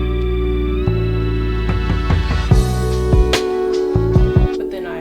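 Remixed Gus and Eddy Podcast theme song moving from its A section into the B section: sustained synth chords and bass with percussive hits, shifting to sparser punchy accents partway through, loud and full with no voices.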